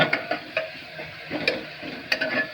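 Tomato and masala powder stir-fried in a pan, steady soft sizzling with repeated scraping and clinking strokes of a spoon against the pan, close and fairly quiet, with no talking.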